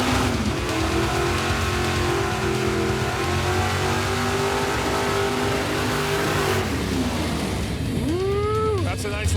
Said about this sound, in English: that's a nice little burnout right there